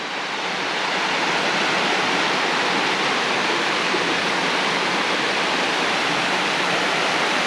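A waterfall in Northern California gives a loud, steady broadband roar of rushing water that runs unbroken from start to finish, with no voices.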